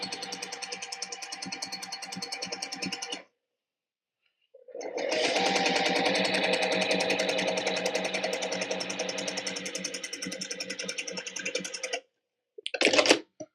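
A sewing machine stitching quilt squares along quarter-inch marks, a steady fast mechanical whir in long runs broken by a silent pause and a short final burst, no talking.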